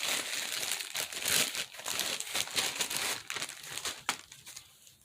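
Packaging around a painting is torn and ripped open by hand, a steady run of close, crisp crinkling and crackling paper or plastic with a few sharper rips and a brief snap near the end.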